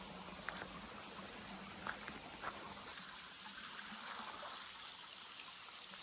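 Water trickling and flowing steadily through a flooded orchard in the Konkan countryside during irrigation, a soft continuous babble with a few faint clicks and knocks and no talking.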